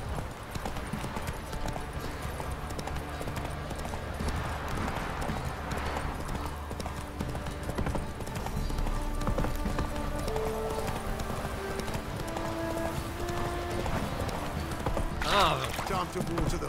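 Hooves clip-clop steadily under ongoing talk in The Witcher 3: Wild Hunt, with a low ambient bed and a short horse snort or whinny near the end.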